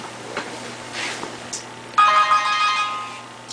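Phone ringtone: a bright, melodic electronic tune begins midway, loud and close over faint room hiss, after a few soft scattered sounds.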